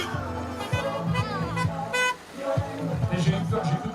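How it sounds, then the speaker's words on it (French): A car horn toots in short repeated blasts among traffic while people talk over it. "j'ai cru que le klaxon c'était celui de la Tesla"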